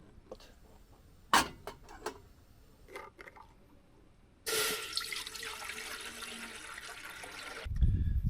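Water pours in a steady rush into a trusty cooking pot at a pickup-truck campsite, preceded by a few sharp clinks and handling knocks, then running continuously for several seconds before a low thud.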